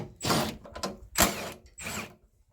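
Ratchet wrench working loose a headlight bolt behind the bumper of a 2007–2013 Chevy Silverado 2500HD, three short, close bursts of clicking separated by brief pauses.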